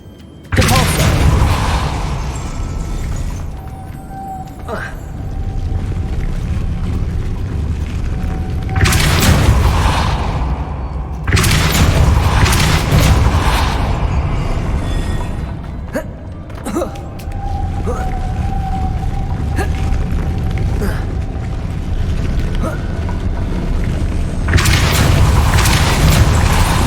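Force spells cast in Hogwarts Legacy, several heavy booming blasts with rumbling tails spaced irregularly through a loud game soundscape of low whooshes and thuds.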